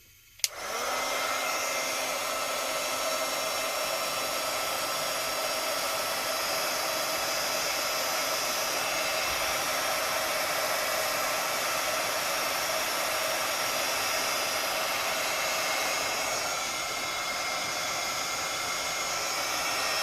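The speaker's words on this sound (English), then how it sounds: "I'm going to go ahead and hit this with the heat gun, not the torch, to move it some and warm it up" A heat gun blows hot air over an alcohol ink tumbler, switching on abruptly and then holding a loud, steady rushing whoosh with a faint motor hum for the rest of the time.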